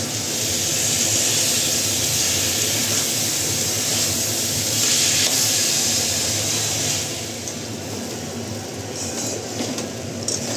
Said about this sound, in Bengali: তো এখন এটা কষিয়ে তারপরে গরম জল দিয়ে দেবো।